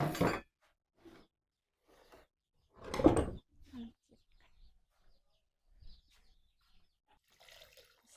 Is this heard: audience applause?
no